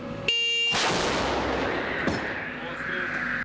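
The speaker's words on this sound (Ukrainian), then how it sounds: "Гармата!" A single powerful blast from a 2S7 Pion self-propelled artillery gun bursts out suddenly, loud and close, followed by a long rumbling roar and echo that slowly fade.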